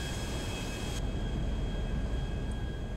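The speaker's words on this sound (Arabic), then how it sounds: "يلا بسم الله، طيارة خاصة بقى، وأنا جايب اللون الذهبي ده" Gold-colored private jet taking off in GTA 5, a sustained engine roar with a whining high tone, a constant loud rumble throughout, no speech.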